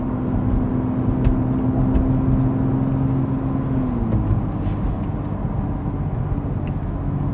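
A BMW M2 engine idles at a steady hum, with a constant low drone and a single tonal note that dips slightly partway through, continuous and fairly loud with no talking.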